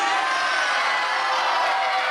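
A crowd at a Hammerlock Pure Wrestling event cheers and shouts in a steady, dense roar that runs through the whole short stretch, loud and close.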